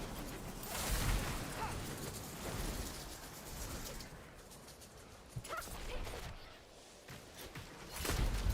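Minions blowing up in Diablo 4 during a glyph grind, a dense wash of game noise broken by several sharp bursts near the start, middle and end, with yelping, dog-like cries mixed into the clatter.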